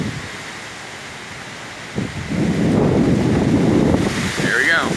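Wind gust during Hurricane Irma, rising after two seconds into a loud, sustained broadband roar rushing against the microphone, with a faint higher whistle near the end.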